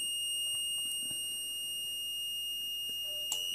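Steady electronic beeping tone from a fire detection panel's alarm buzzer, a continuous high-pitched whine with faint clicks, held at an even level throughout with no talk.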